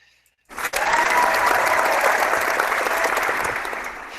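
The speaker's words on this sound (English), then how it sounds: "Once again, keep that applause going." Crowd applause after a boxing fight between Carl Frampton and Leo Santa Cruz, bursting in abruptly after a moment of silence and holding as a loud, sustained roar of clapping that eases slightly at the end.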